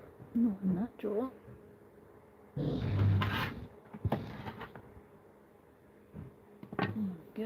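A wooden drawer being pulled open and rummaged through on a workbench, a burst of rubbing and scraping with a few knocks, while someone talks before and after.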